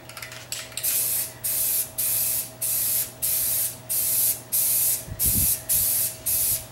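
Spray paint hisses onto a refurbished table in about nine short, even bursts, each around half a second long, over a low steady hum with no talking.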